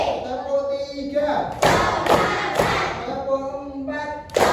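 Schoolchildren in a classroom clap in counted bursts, sharp broadband claps arriving in clusters between stretches of a voice counting aloud.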